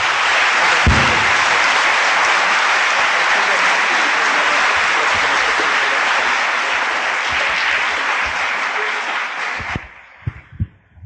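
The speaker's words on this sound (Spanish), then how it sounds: "Un aplauso, claro que sí." Sustained audience applause fills a university law faculty lecture hall in Puebla, steady and dense for about ten seconds before tapering off into scattered final claps.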